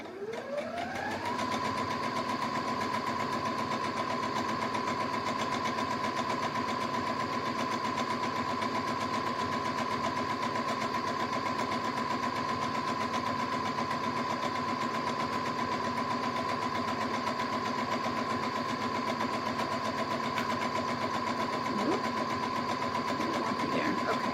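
A sewing machine runs at a slow, steady pace while stitching a custom pillowcase, giving a continuous even whir and hum with no pauses and no talk over it.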